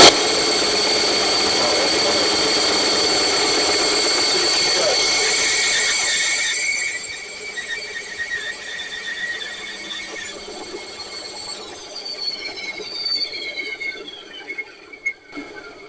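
A bandsaw with a newly replaced run start capacitor runs with a high steady whine that shuts off partway, leaving a fading spin-down hum and faint clatter.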